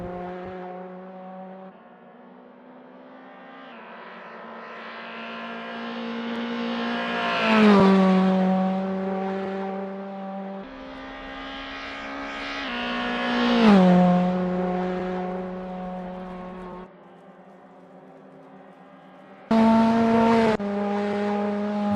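A Toyota GR86 race car in Assetto Corsa at Road America, its engine droning and rising through repeated revving pulls with gear changes, loud and steady throughout with no talk.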